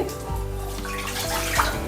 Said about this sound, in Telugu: స్టవ్ వెలిగించి ఇందులో రెండు గ్లాసులు వాటర్ పోయాలండి